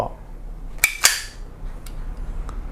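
An ISSC M22 blank pistol, a Glock-style replica, has its slide released: two sharp metallic clacks in quick succession, followed by faint small clicks in a quiet room.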